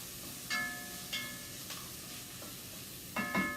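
Garlic sizzles in a frying pan with a steady crackle, broken by a few louder scraping strokes of stirring, close and alone with no voices.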